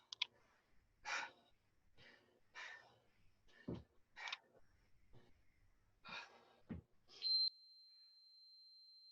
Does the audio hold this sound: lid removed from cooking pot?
no